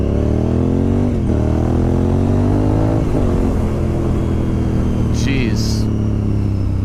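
A Honda RC51 SP2 sport motorcycle revs hard while being ridden, its loud close engine climbing through rising pitch sweeps with brief dips between gears, with strong wind rush throughout.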